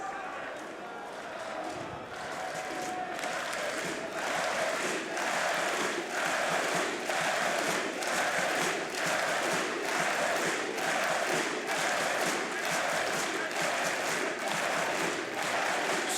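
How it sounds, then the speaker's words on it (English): Arena crowd at a Counter-Strike Major playoff match in Munich, FaZe Clan versus M80, chanting a team name in steady rhythmic pulses, a dense roar of many voices filling the hall with a caster's voice over it. "So the crowd chants the team's name one more time"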